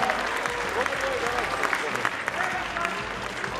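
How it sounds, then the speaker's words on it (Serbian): Steady, dense applause fills a hall during a junior under-75 kg bodybuilding contest, sustained clapping from a sizeable audience, with a voice talking faintly underneath. "želim veliki aplauz"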